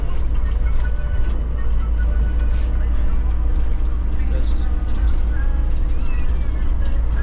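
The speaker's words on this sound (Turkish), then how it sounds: "Böyle lokal otobüs." A local city bus in Cusco, Peru, its engine a steady low rumble with road noise and rattles heard from nearby, with people talking over it.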